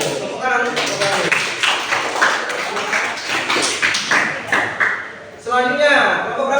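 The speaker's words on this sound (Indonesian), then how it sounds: "Tepuk tangan untuk kelompok 1." A classroom group claps for group 1 after a persuasive speech-writing lesson: several seconds of dense, steady applause from many hands, with a voice speaking briefly before and after.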